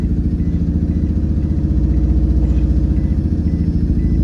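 A car engine with a manual transmission runs steadily and close up, with a throaty rumble and a rhythmic mechanical clatter as the clutch is let up and the car begins rolling. No one speaks.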